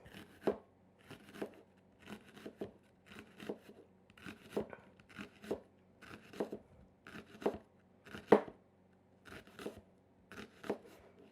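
A knife thinly slicing a white Vidalia onion on a board, steady repeated soft crisp cuts in a regular rhythm, close and fairly quiet with no talk.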